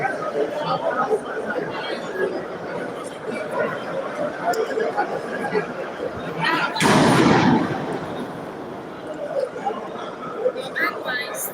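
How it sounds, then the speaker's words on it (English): A single sharp bang cuts through a room full of chatter and murmuring voices, sounding somewhat distant, as if from outside. "we just had a gunshot from outside"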